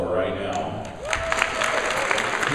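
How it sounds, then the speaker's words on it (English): Audience applause at a MAGFest convention voice-acting panel, a steady wash of clapping from a crowd that swells slightly partway through, with a faint tone and some voices mixed in. "Brendan Becker, who you should all applaud for right now"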